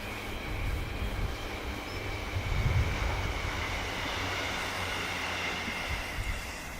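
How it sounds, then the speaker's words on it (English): A train rolls past at a distance from an excavation trench at Bradford Kaims, a steady low rumble with a faint hiss that swells briefly and then holds evenly. "Hold on, there's a train going past,"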